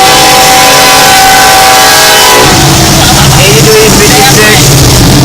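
A Union Pacific freight train passes close by with loud rumbling and clattering of rail cars, a sustained horn-like tone in the first half, then continuous wheel noise.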